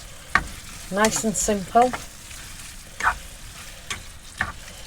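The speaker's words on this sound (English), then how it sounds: "To heat back up a little bit, not a lot, just while I mix it all together." Shepherd's pie filling being stirred and mixed in a pan in a motorhome kitchen, with soft scraping and a faint sizzle running under a voice talking throughout.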